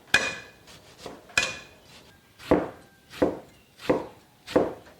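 A knife cuts partly frozen pork tenderloin into thin shreds on a board: six loud, sharp chops land close by at uneven intervals, each with a hard wooden knock and a brief ring.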